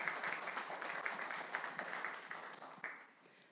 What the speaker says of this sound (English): please offer applause